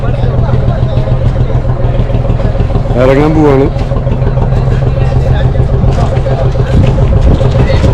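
Boat engine idling after docking at Nainativu island, a steady low mechanical drone that runs throughout beneath close conversation and the bustle of passengers getting off.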